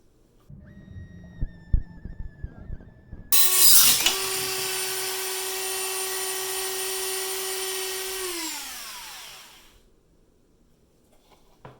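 A rotary tool with a cutoff wheel grinds into a knife while it is being dismantled. A high, steady whine holds for several seconds and then winds down, after some light clicks and handling noises.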